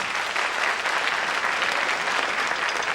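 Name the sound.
studio audience applause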